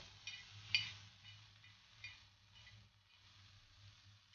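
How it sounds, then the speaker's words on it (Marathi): Paneer and corn sautéing in a pan, making a soft, faint sizzle with a few light scraping stirs, heard alone and without voices. "1 ते 2 मिनिटं फक्त आपल्याला परतवून घ्यायचे."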